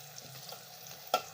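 Garlic fries in a pan for a bitter gourd (karela) dish, with a faint, soft steady sizzle and a brief clink of a spoon stirring at the end.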